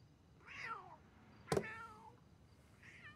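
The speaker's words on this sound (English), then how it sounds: "I think your cat wants to come in." A cat meowing outside a door to be let in: three plaintive meows, moderately near, separated by pauses, with a sharp knock-like thump in the middle.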